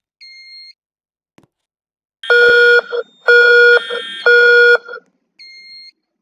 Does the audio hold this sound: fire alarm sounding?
yes